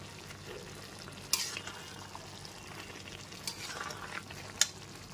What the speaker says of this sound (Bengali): ভাজা মশলাটা দিয়ে খুব ভালো মতো মিশিয়ে নিচ্ছি।